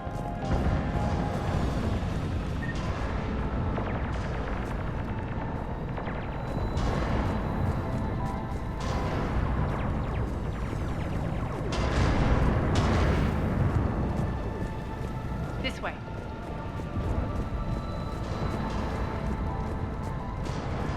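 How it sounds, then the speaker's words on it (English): Heavy cannons firing in the Mass Effect video game, a sequence of deep booming blasts and crashing impacts over a dense, rumbling battle backdrop, fairly distant and low in level. "Those cannons have to be stopped."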